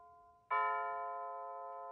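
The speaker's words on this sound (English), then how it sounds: "One chime for one o'clock" A Bulova C3542 wall clock strikes a single chime, one clear ringing tone that rings out sharply and then sustains, slowly decaying while still loud, with near silence before it.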